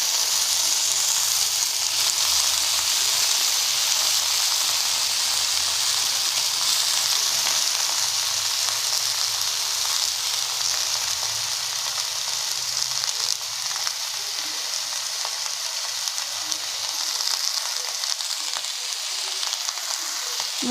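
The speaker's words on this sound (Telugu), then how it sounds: "పోపు వేగిన తర్వాత మనం తరిగి పెట్టుకున్న వంకాయ చిక్కుడుకాయ ముక్కల్ని ఇందులో వేసేసుకుంటున్నాం." Brinjal and broad bean pieces dropped into hot oil tempering sizzle loudly and steadily for the full stretch, with a dense, continuous frying hiss and faint stirring, close up and without voices.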